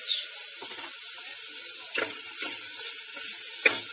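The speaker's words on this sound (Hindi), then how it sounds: "मिक्स कर दूंगी, 1-2 मिनट इसको भूनूंगी" Green chili, tomato and capsicum sizzle steadily in a hot pan while being stirred for savoury vegetable porridge, a constant bright frying hiss broken by a few soft spoon scrapes and knocks.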